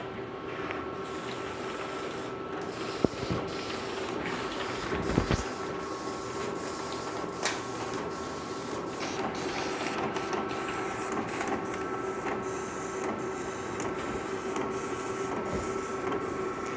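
A cutting plotter whirs and hums steadily as it warms up and cuts, a constant mechanical drone with faint tones and occasional small clicks and taps throughout.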